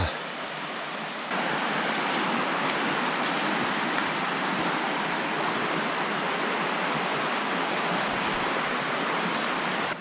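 Steady, loud rushing water fills the whole stretch, a continuous broadband roar of a nearby mountain river in the western Gorgany forest, with no voices.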